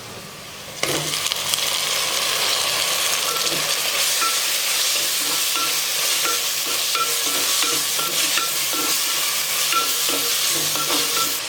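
Onion and tomato hiss in hot oil in a pan for a sardine curry, the sizzle swelling suddenly near the start, then running on steadily under rhythmic scraping strokes of a spoon.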